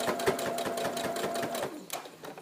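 A sewing machine stitches fabric for a memory bear's head, running in a quick, steady mechanical patter up close before briefly pausing and starting again.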